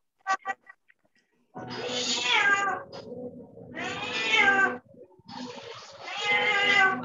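A cat meows in three long, drawn-out, loud calls close by, with a few faint clicks before the first.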